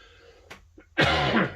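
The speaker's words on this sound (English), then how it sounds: "This will hopefully be the last cough" A man recovering from flu gives a single harsh cough, loud and close, after a brief quiet catch of breath.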